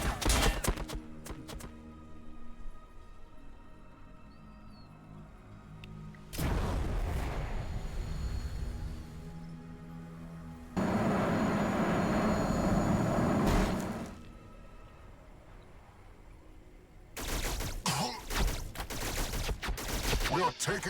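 Gunfire and explosions in a Warhammer 40000 Battlesector multiplayer battle between Blood Angel armies come as rapid crackling volleys and heavy rumbling blasts, several dense bursts separated by quieter gaps.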